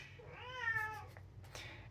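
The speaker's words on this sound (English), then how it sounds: "Hello, that's my cat." A house cat gives one clear, drawn-out meow close by, followed by a shorter, softer sound, with a quiet hum in the background.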